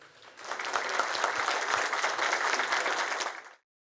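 An audience at a panel on collective labor law applauds a speaker being introduced, a full, even round of clapping that builds quickly, holds steady for a few seconds, then fades out.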